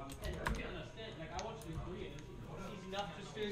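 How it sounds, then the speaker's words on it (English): Clicky computer keyboard typing, a quick irregular run of keystrokes close to the microphone, heard under people talking. "I'm really sorry about the typing"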